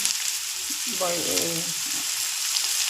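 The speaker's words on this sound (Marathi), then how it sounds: "आपण अशा पद्धतीने कांदा भाजून घ्यायचा आहे" Chopped onion fries in a pan with a steady, close sizzle and crackle that runs the whole time, with a brief stirring rattle midway.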